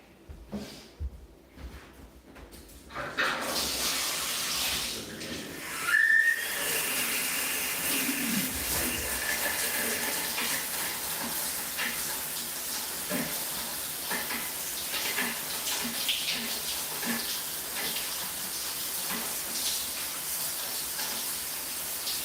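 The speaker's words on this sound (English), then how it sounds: "I'm gonna start by wetting my hair." Bathroom tap running while hair is wetted, a few seconds of handling noises giving way to a steady hiss of flowing water that continues evenly at moderate, close level.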